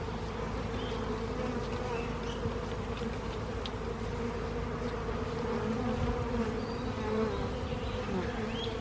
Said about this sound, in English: So sometimes they don't all come off, so Steve's going to use the brush, and slowly they'll make their way back into the hive